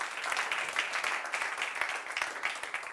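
Applause from a conference audience for the organisers and behind-the-scenes staff at a manufacturing forum session, a steady, moderately distant patter of many hands clapping throughout.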